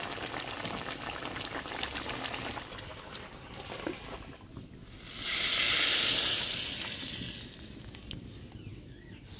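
Mustard pabda fish curry bubbling in a pan on a village kitchen fire, a steady close boil with a louder surge of hissing bubbles midway, no voices.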